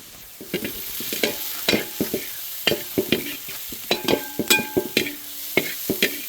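Chili flakes, masala powder and salt are stirred through corn in a frying pan, with a spoon scraping and tapping in quick irregular strokes over a soft sizzle, close and clear, with no voices.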